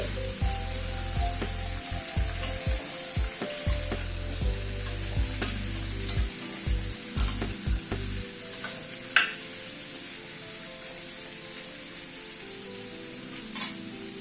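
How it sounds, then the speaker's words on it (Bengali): Vegetables frying in oil with salt and turmeric, stirred in a pan: a constant bright sizzle with repeated spatula knocks and scrapes, close and alone, with low thumps early on. "সবকিছু দিয়ে নুন হলুদ দিয়ে সবজিটাকে একটুখানি নাড়াচাড়া করে নিচ্ছি"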